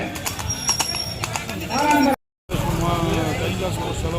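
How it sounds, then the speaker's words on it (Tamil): Racing horses pull carts in a horse-cart race at Kavundampalayam, Coimbatore, their hooves clip-clopping in quick, sharp beats beneath a loud announcer's voice, with a brief dropout midway. "4வது குதிரை வந்து கொண்டிருக்கிறார்."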